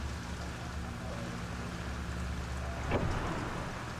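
In the video game Fatal Frame: Maiden of Black Water, steady rain hisses in a dense, even wash at night, with a low rumble underneath and one brief louder swell near the end.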